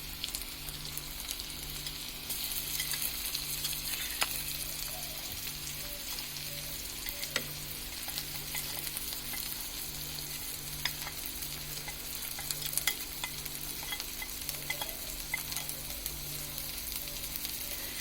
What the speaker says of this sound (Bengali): এখন ভাজা হবে, হালকা নরম হয়ে আসলে তারপর এর মধ্যে আমরা মশলাগুলো অ্যাড করে দেব